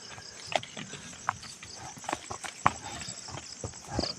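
Horse hooves clip-clopping along while pulling a loaded cart, a steady run of sharp, close knocks with several louder strikes and no voices.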